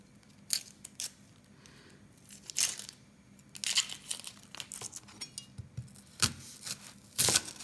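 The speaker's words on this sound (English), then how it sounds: "I'm going to just chop up a couple of onions and some garlic" Knife chopping a couple of onions for pumpkin soup, a series of irregular crisp cuts and crunches at close range, some bursts quicker than others, with a faint steady hum behind and no talking.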